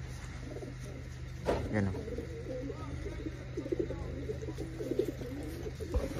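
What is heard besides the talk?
pigeons cooing in a loft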